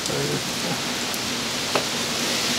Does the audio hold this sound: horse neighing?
no